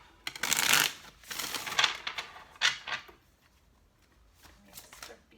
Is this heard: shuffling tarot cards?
yes